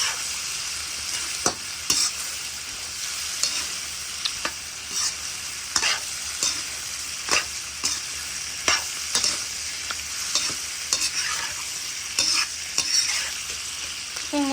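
Pig intestines fry in a pan while being stirred, with sharp scraping stirs every second or so over a steady crackling sizzle, close and fairly loud, with no talking.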